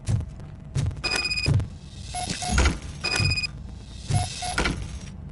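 A locked door is tried in a game, giving repeated rattling thunks and short mechanical clicks in a rhythmic series, each try ending in a dull knock, with no voices.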